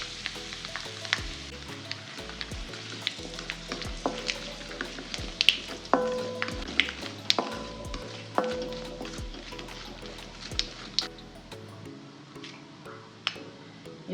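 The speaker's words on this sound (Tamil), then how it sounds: "கடுகு உளுந்த பருப்பு பொரிஞ்சிருச்சு" Hot oil sizzles steadily with scattered sharp pops and crackles of mustard seeds and urad dal spluttering, plus occasional clinks of a utensil stirring.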